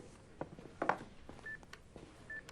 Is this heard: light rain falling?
no